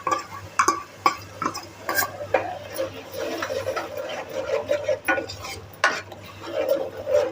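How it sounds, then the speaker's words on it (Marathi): Tomato paste frying in oil with onion paste for pav bhaji, stirred with a spoon that clacks and scrapes against the pan in an irregular rhythm over a low steady sizzle, close and fairly loud. "आता आपण हे टमाटरची पेस्ट टाकणार आहोत"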